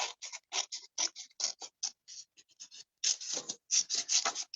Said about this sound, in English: So I am going to just kind of cut around